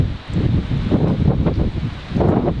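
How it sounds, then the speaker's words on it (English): A strong, cold westerly wind gusts across an outdoor park after overnight snow, buffeting the microphone in loud, uneven surges with no pause. "Damn, that's windy. That's cold westerly wind."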